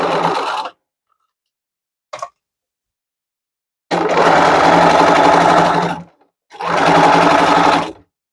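A sewing machine stitching a seam on a toiletries bag runs in three bursts: a short run at the start, a long steady whir mid-clip, then another run after a brief pause, loud and close.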